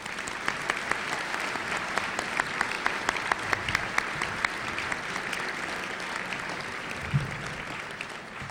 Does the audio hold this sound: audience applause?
yes